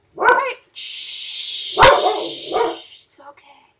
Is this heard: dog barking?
yes